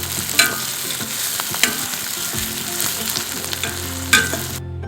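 Two tomatoes fry in a pan for a shredded chicken dish, a loud continuous sizzle close up with a few sharp spatula knocks and stirring scrapes, cutting out at the end.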